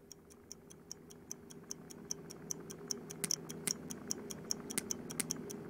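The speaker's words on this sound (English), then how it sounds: "Oh, the old ticking bomb." A ticking bomb in the virtual reality spy puzzle game I Expect You To Die gives a steady, evenly spaced run of sharp ticks over a low background hum. The ticks are close and clear, and no one speaks.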